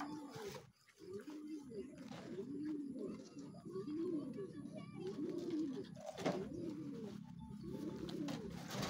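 Racing pigeons cooing during a training race, repeated soft rolling coos in a steady rhythm close by, with faint chirps and a voice briefly in the background.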